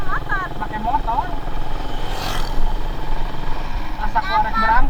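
A motorbike engine runs steadily underneath throughout, with its drone rising and falling slightly, while people chat over it almost the whole time.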